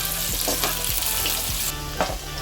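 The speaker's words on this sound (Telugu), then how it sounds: "చిన్నగా కట్ చేసుకున్న ఆనియన్స్ వేసుకుంటున్నాం మనం ఇప్పుడు" Finely chopped onions hitting well-heated oil in a pan, a dense continuous sizzle with a few rhythmic scraping strokes of a utensil, close and loud, no voices.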